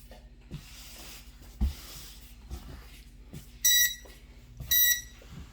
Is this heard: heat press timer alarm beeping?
yes